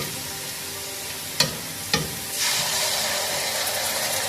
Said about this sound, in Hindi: अदरक लहसुन का पेस्ट ऐड कर देंगे। और इसे 1 मिनट के लिए कुक कर लेंगे